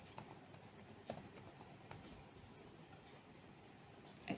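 Keystrokes on a computer keyboard while entering a chart axis title in Microsoft Excel, quiet and scattered, a handful of light clicks spread over a few seconds with a slightly louder tap near the end.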